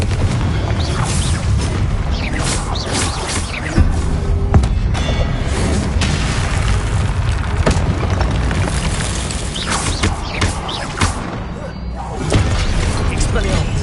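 The Confringo spell explodes in Hogwarts Legacy as heavy booms and crashing bursts over dense game effects and noise, with shattering hits and a voice heard through the run.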